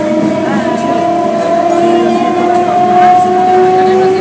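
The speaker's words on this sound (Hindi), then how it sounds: "मेमू को ओवरटेक कर लिया।" An EMU commuter train on the Sealdah to Kalyani line in Kolkata passes a MEMU train, a steady loud rumble of rolling wagons with a sustained tonal whine running throughout at close range.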